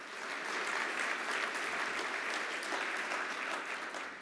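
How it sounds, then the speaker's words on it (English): Sustained applause from a large audience at an affordable housing conference, a dense, even wash of clapping that holds steady throughout without fading. "you can clap for that"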